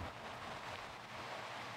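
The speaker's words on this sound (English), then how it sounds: "Well, the winds are whipping. It is pouring rain." Heavy rain pours and wind whips during Hurricane Larry, a steady, loud broadband roar with no break for the whole moment.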